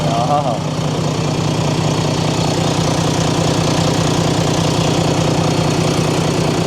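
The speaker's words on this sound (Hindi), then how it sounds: "यार नया इंजन, मज़ा आया ना, आवाज़ ऐसी कितनी ज़बरदस्त है इसकी।" A new truck's engine idles steadily with the hood open, a loud, constant mechanical rumble with rhythmic knocking throughout, close by, while a person talks briefly at the start.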